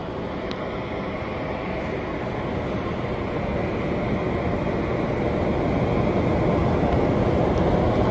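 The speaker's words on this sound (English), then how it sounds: "Ryanair taking off." A Ryanair jet rolling for takeoff at East Midlands Airport, heard as a loud, steady, broad engine roar that holds constant and builds slightly, with no talking.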